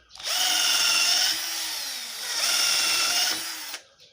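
A power drill bores holes into wood for a plant pot shelf: two loud, sustained whining runs of about a second each, close up, with a brief lull between them and no talking.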